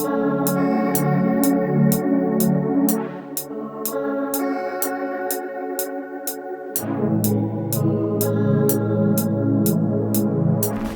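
Synth preset A Place to Explore from the Nebula bank plays a dreamy sustained chord pattern with bright, evenly spaced ticks on top. The chords shift partway through, and no one speaks.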